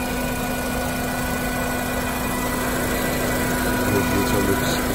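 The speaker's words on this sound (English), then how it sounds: "so the car's running right now. There's a four cylinder." A 2005 Honda Accord's four-cylinder engine idling, a steady, even hum and rumble with a faint drone, held constant and close throughout.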